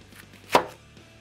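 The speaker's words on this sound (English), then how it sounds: "Chop it in half." Kitchen knife cutting a rinsed head of cabbage in half, a single crisp crunching chop lasting a fraction of a second, close and alone.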